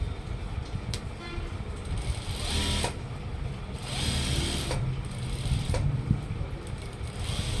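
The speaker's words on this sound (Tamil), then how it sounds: "இந்த காலர் வந்து மேலே ஒரு அமுக்கு தையல் போடணும் விளிம்பு ஓரத்தில் கொடுக்கணும்" Sewing machine stitching along the collar edge of a school uniform coat, with several short bursts of mechanical whirring separated by brief pauses and steady low room noise throughout.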